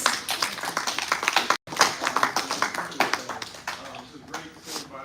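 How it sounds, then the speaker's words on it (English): Scattered clapping at a police board meeting, honoring a trustee, comes in uneven bursts with a brief dropout and voices mixed in, tapering off toward the end. "I think we should give a round of applause to Trustee Dolton for all the work that she'"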